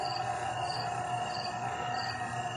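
Steady, faint chirping of crickets in a continuous, even drone, with no voices.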